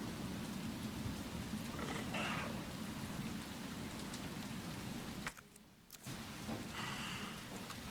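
Heavy rain pouring in Resident Evil 2 Remake, a dense steady hiss with a brief dip in the middle, filling the whole stretch without speech.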